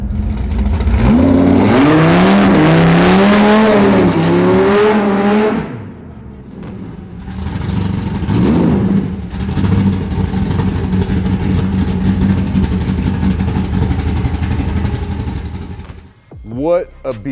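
A race-prepped car revs hard and accelerates away on a street, its loud engine note climbing through gear changes and then settling into a steady drone as the car drives on, with a short rev returning at the end.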